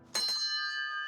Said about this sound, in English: Bell rings.